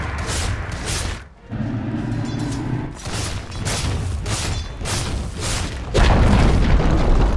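The Dire top tower collapsing in Dota 2, heard as a dense game soundscape of repeated booming impacts and crunching blows in a steady pulse, with a lower rumbling stretch and a heavier, louder surge near the end.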